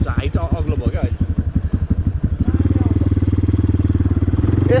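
A dirt bike rides a track near Lalitpur, its engine firing in loud, close, uneven pulses that settle into a fast, steady buzzing drone, while people talk over it.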